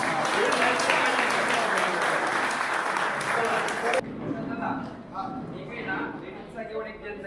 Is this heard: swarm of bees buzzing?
no